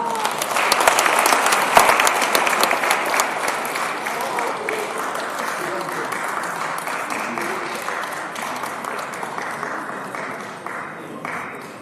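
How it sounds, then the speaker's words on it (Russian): Loud, sustained applause fills a company's second-anniversary celebration in Yakutsk, the dense clapping of a large crowd running steadily for about twelve seconds and easing only slightly toward the end. "Сопровождаем наших лидеров также бурными аплодисментами"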